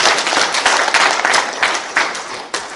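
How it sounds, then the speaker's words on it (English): Audience applause at a disaster management course ceremony held for the Nigerian Navy, loud, close clapping in irregular bursts that swell and thin out over a few seconds. "Let's give them a round of applause."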